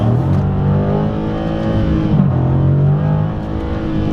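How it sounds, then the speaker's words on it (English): A 2015 Dodge Challenger Scat Pack muscle car accelerates hard on a back road, its engine note climbing steadily in pitch as it revs up, loud and close with no talking. "Gonna go ahead and do one last acceleration before we end the video here."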